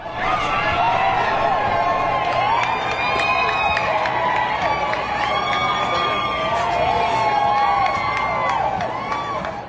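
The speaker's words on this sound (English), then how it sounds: "The crowd cheered outside the New York courthouse this afternoon as the 34 guilty verdicts were announced" A crowd gathered outside a New York courthouse on the afternoon guilty verdicts were announced, cheering and whooping continuously, with shouts rising over a dense, fairly loud wall of voices.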